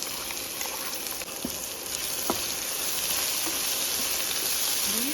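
Red chillies tempering in hot ghee for a toor dal, a steady close crackling sizzle with scattered pops and no talking.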